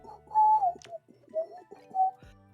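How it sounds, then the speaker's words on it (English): A person whistles a few short, wavering tones with quick pitch slides, separated by brief pauses, fairly close and heard on its own. "If I whistle right, I have to whistle."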